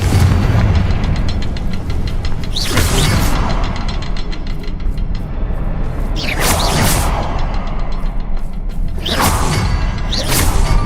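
In Hogwarts Legacy, Confringo fire spells burst in three loud whooshing blasts spaced a few seconds apart, each a sharp explosion over a busy backdrop of game mechanisms and effects.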